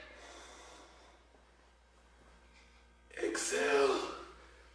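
A deep, forceful inhale through the nose during a karate breathing exercise, one loud rushing breath after a quieter stretch of breathing.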